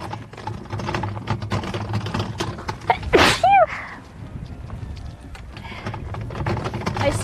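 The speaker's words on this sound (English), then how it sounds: "I have to sneeze." A single sharp human sneeze bursts out loud and close midway, over steady background noise and faint clatter at a place with animals.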